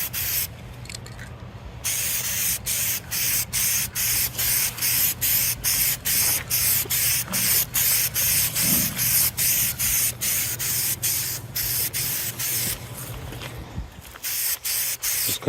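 Spray paint hisses in a long run of short, even bursts onto a Vietnam War M1 helmet shell outdoors in a breeze, each pass loud and close with brief gaps between, the rhythm steady nearly throughout.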